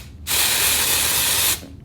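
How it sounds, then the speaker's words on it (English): Jet Set invisible powder spray hisses from the can in one continuous close, loud burst lasting just over a second, with quiet before and after. "It's invisible powder spray"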